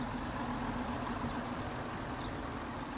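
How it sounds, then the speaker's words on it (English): Delivery trucks in Transport Fever rumble past with a low, steady engine drone and idling hum, fairly quiet and continuous throughout with no voices. "Oh, those trucks, I love them. I love the sounds"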